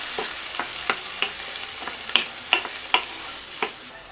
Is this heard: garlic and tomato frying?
yes